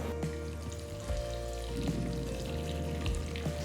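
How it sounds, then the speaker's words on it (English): Mustard seeds and urad dal spluttering in hot oil for a tomato chutney, a steady close crackle and sizzle with small pops scattered throughout, no voices. "Once the mustard seeds begin to splutter,"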